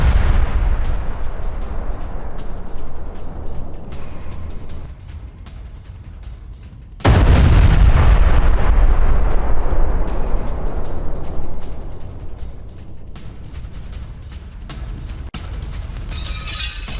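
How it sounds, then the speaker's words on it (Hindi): Spike anti-tank missile strike by Israeli paratroopers on military positions: heavy explosive blasts and bursts of gunfire, with a sudden loud detonation midway that rumbles and fades into a sustained roar. "स्पाइक एंटी टैंक मिसाइल से सैन्य ठिकानों को बनाया गया निशाना।"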